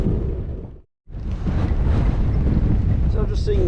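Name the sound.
wind while cycling downhill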